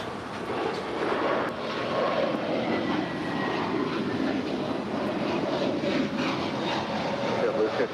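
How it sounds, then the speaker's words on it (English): An Emirates Airbus A380 on short final approach at LAX produces a steady, broad jet engine roar that holds at an even loudness throughout, with a voice talking faintly underneath. "Now on short final is the Emirates A380."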